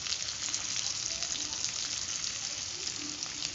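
Sliced onions fry in hot oil with a steady, even sizzling hiss close by that stays at a constant level throughout.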